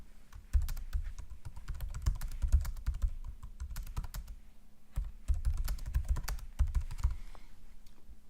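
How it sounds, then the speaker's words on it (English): Fingers tap out text on a computer keyboard in quick, irregular bursts of clicks, close and fairly quiet, with brief pauses between runs of keystrokes. "You can add extra material in this box by typing in the text."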